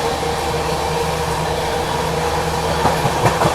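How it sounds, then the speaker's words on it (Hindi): Aboard the Amritsar Swarn Shatabdi Express as it overtakes the Punjab Mail: a loud, steady rolling rumble with rhythmic wheel clacks near the end, and no voices. "पंजाब को ओवरटेक मार रही है शताब्दी"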